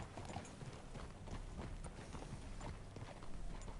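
Steady clip-clop of horse hooves trotting along in Red Dead Redemption 2, continuous rhythmic clatter over a busy background of ambient noise.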